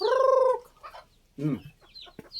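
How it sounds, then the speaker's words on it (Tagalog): Chickens cluck and squawk nearby in short bursts while being fed coconut, a loud drawn-out call at the start followed by scattered clucks and pecking noises. "Yan, pinakain ko sa manok."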